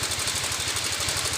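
A Yamaha Fino 125 automatic scooter knocks at start-up, giving a rapid, steady tek-tek tapping over the running engine's hum. Loud and close throughout, with no talk.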